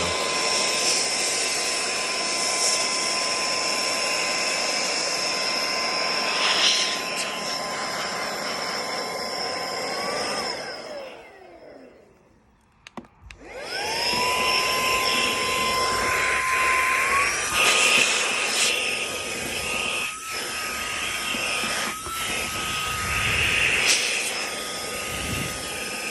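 A FIERCEVAC electric air duster blowing dust out, a steady high-pitched motor whine with a rushing airflow hiss, cutting off briefly midway and then spinning back up, close and loud with no talking.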